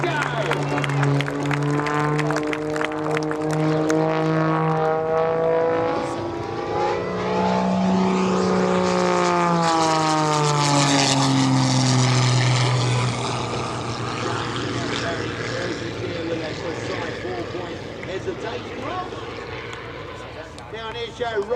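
A propeller plane's engine drones and bends in pitch as it climbs vertically and rolls overhead at the EAA AirVenture Oshkosh 2025 airshow, with an announcer talking over it and crowd noise behind.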